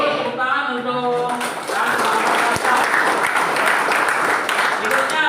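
Classroom applause from students, a sustained dense clatter of clapping that starts over the tail of a teacher's voice and fills the rest of the stretch at steady loudness.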